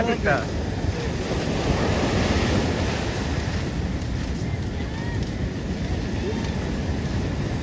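Sea waves splash and surge continuously around a fishing boat during a net-fishing outing, a loud broadband wash mixed with wind buffeting the microphone.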